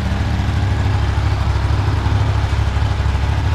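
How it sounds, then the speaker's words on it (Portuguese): A 2024 Yamaha R15 motorcycle engine idles close by with a steady, even low rumble and no voices over it. "O barulho do motor tá certinho."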